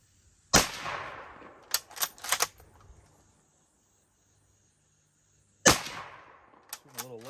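A nearly 130-year-old original 1895 Mosin Nagant rifle fired offhand outdoors: two sharp, loud cracks several seconds apart, each followed by a short echoing tail and handling clicks, with a little speech in between.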